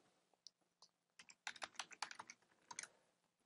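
Fingers tap out an Excel function on a Mac computer keyboard in quick, clicky keystrokes, starting sparse and then speeding into a dense burst, close and fairly quiet.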